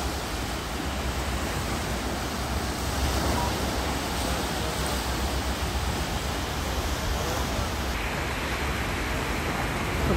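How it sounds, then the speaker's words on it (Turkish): Sea waves wash steadily onto the Black Sea shore below Boztepe in Ordu, Türkiye, a dense, continuous roar of surf with no voices. "Denizin muhteşem sesiyle birlikte."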